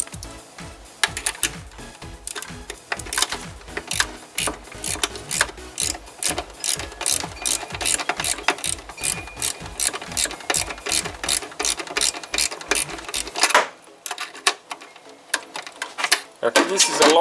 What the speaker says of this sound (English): So we're going to go ahead and get that nut loose now.